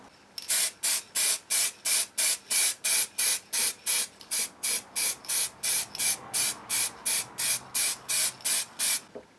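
Rattle-can spray paint hisses onto a custom motorcycle tank in about twenty-two short, evenly spaced bursts, loud and close, each a sharp airy spray with brief pauses between, no talk.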